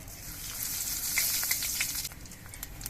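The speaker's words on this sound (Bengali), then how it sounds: "এবার এই তেলের মধ্যে আমি অল্প একটু কালো জিরে দিয়ে দিচ্ছি" Black cumin seeds sizzle in leftover oil from frying tilapia in a wok, a close, bright crackling hiss that peaks midway and then eases slightly, with no talking.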